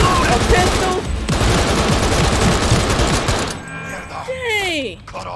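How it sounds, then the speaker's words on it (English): Shotgun and pistol gunfire in the video game Cyberpunk 2077, loud, rapid overlapping shots filling the first few seconds before thinning out into scattered game effects. "I done hit this man with a shotty, a pistol."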